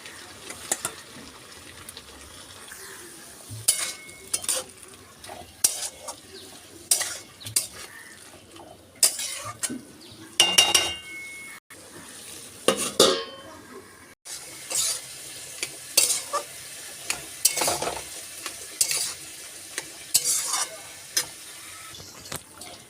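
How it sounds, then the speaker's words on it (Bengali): Chopped cabbage cooks with spices in a pan for a vegetarian dish, with a soft sizzle and intermittent clinks and scrapes of a metal spoon stirring against the pan, close up and without talk. "আমি এর মধ্যে আগে থেকে কেটে রাখা বাঁধাকপিটা দিয়ে আরও আধা ঘন্টা মতন রান্না হতে"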